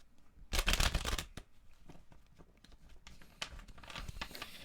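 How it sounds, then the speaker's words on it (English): Tarot cards being shuffled in quick riffling bursts, a loud flurry early on, then softer intermittent shuffling and handling noises, close up. "Just going to give him a quick shuffle."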